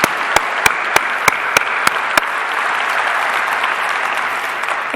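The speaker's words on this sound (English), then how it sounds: "we're just going to have a big round of applause for you." Audience at a London 2013 e-health conference breaks into a big round of applause, steady sustained clapping from a full room with a few sharp individual claps standing out at the start.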